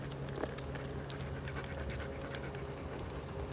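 A tired dog pants steadily and rapidly after a walk at a truck camper stop, the quick breaths close and continuous over a constant low background hum.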